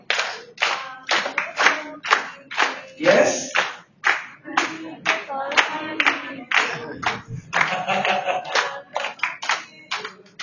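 Rhythmic group hand clapping at a Ramadan breaking-fast gathering in a hotel, a steady series of sharp, fairly close claps in a brisk beat, with a brief spoken word at one point.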